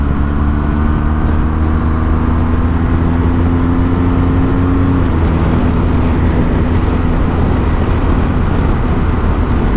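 A vehicle's engine roars up and passes a motorcycle carrying a child passenger, its rising drone and whoosh sweeping by close over steady loud wind and the bike's own engine rumble.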